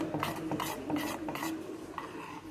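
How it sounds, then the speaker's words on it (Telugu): Cocoa powder and milk being stirred in a pot on a gas stove, faint rhythmic scraping and swishing strokes, close but quiet with no voices. "కోకో పౌడరు పాలు కలిపి ఇట్లా గ్యాస్ మీద పెట్టుకున్నాను గుండలు కట్టకుండా తిప్పుకోవాలి"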